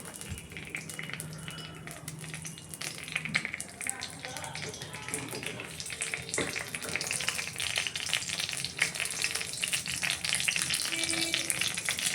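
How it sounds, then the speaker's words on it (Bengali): Dried chilli and bay leaves tempering in hot oil, a steady loud sizzle and crackle filling the whole stretch, close up, with occasional stirring clatter. "লঙ্কা, তেজপাতা ফোড়ন দিলাম। এটা গরম হোক।"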